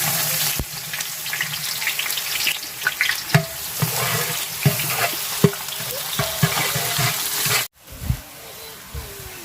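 Onions frying with a ground paste of cumin, ginger and garlic in a pan for a picnic meal, a constant sizzle with repeated sharp clicks and scrapes of a spoon, and a brief cutoff near the end.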